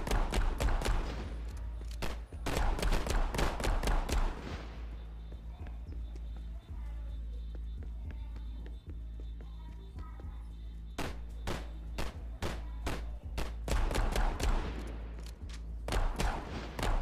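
Shotgun blast fired in the Gangstar New Orleans video game, heard as sharp transient shots amid game sounds and a commentator's talk, with clusters of loud bangs near the start and again toward the end.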